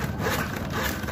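A dull hand saw cuts through wood on a construction job, its coarse rasping strokes steady and close, filling the short stretch without pause.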